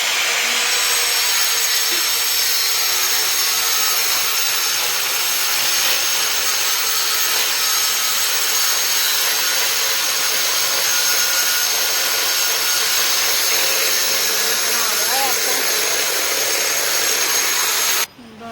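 A machine cuts stone tiles for a drawing room floor, giving a loud, steady broadband grinding whine that holds unbroken for about eighteen seconds before cutting off abruptly at the end.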